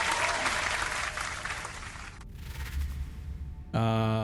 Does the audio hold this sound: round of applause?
yes